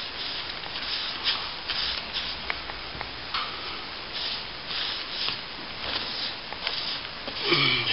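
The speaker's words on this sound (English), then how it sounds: "Just brushing it like thick paint" A brush working wet plaster smooth on a wall during a plaster repair, making soft, close rubbing and swishing strokes in an uneven rhythm, with no one talking.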